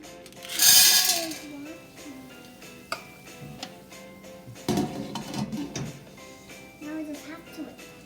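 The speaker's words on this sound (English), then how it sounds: "I'm going to put this half cup of popping corn into the pan" Half a cup of popcorn kernels pours into a pan on the stovetop with a brief rattling rush, followed by scattered ticks, clinks and metal pan knocks while a person talks nearby.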